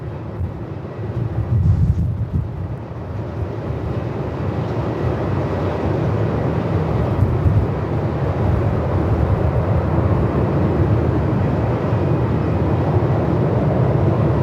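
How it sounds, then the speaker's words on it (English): Jetstar Airbus A320 on approach to land at Melbourne Airport in 45-knot winds, a steady loud roar of engines mixed with heavy wind buffeting on the microphone, continuous for the whole stretch with no talking. "Jetstar 320 coming in here."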